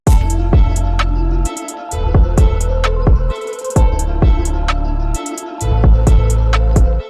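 Electronic track with punchy kick and snare drums over a sustained synth pad, steady rhythm with a few brief drops, loud and upfront.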